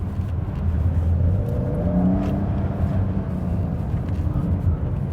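A 2020 Porsche 911 Carrera S set to wet mode pulls steadily from inside the cabin, its engine note a continuous low drone that rises gently under acceleration for the whole stretch, with no talking.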